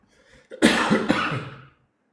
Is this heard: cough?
yes